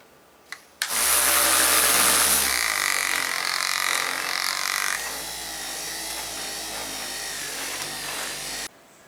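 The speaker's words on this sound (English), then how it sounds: "I switched to the synthetic wool bonnet, and let's start polishing the Novus 3 side" A rotary polisher fitted with a synthetic wool bonnet buffs a clear-coated pinball playfield. It gives a loud, steady motor whine and rubbing drone after a brief click, then stops abruptly.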